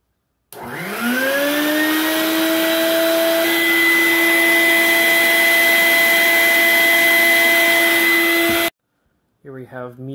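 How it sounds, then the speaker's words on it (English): A bucket-mounted shop vac motor starts up and runs loud and steady with a high whine for about eight seconds, then cuts off abruptly, followed by a brief voice. "my shop vac that fits onto any bucket."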